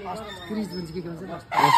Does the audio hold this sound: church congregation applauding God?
no